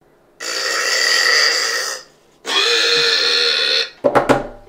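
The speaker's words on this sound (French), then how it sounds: "Ça donne pas envie de roter d'entendre les gens roter?" People burping: two long, loud, sustained belches separated by a brief gap, followed by a quick burst of shorter, choppy burps at the end.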